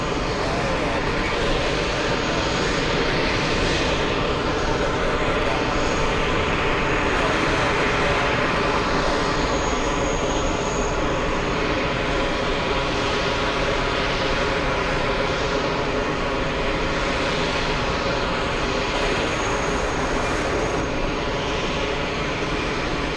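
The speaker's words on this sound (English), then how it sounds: "because I have the APU sound in my ear on the headset and it's so loud" A jet's auxiliary power unit runs loudly at JFK Airport, a steady, unbroken broadband roar lasting the whole stretch with no letup.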